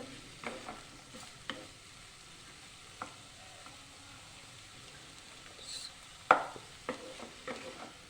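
Mixed vegetables fry over medium flame in a pan that is uncovered and stirred, a quiet low sizzle broken by scattered spoon scrapes and one sharper clank of the lid or utensil.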